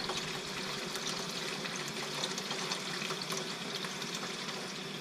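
A steady stream of tap water rinsing chanterelle mushrooms in a sink, running continuously at close range with faint splashes and no talking.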